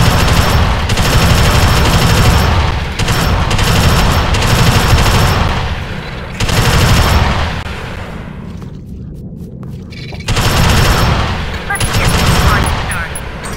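Sentry gun in the video game Alien Swarm firing long, loud sustained bursts of rapid automatic fire, broken by brief pauses and a quieter stretch, with voices talking over the gunfire.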